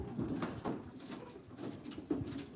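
Racing pigeons in a loft during basketing for a race, soft low coos recurring faintly in the background.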